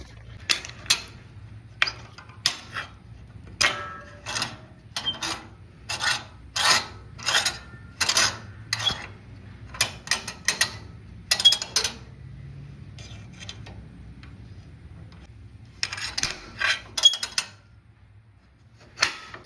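A flathead screwdriver scraping and prying at a spring stuck on a utility trailer's tailgate latch pin, giving repeated short metallic rasps in quick bursts, then a pause before a few more scrapes.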